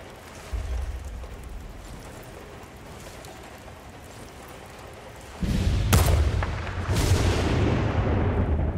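Thunder and a sniper rifle shot from the video game Battlefield: Bad Company 2 on PlayStation 3 come through over steady rain: a low rumble, then a sudden loud crack and a second heavy boom that rolls on over the downpour.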